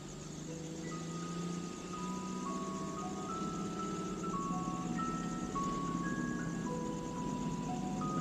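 A tinkly ice cream truck melody from the film Maximum Overdrive, a simple chime tune playing faintly over a low engine rumble.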